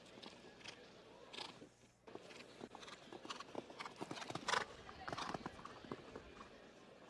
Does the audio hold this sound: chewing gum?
no